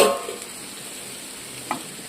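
Fried vegetables and egg are stirred in a pan for chow mein, a soft, steady scraping and low sizzle with an occasional louder clink of the utensil, close and without talk.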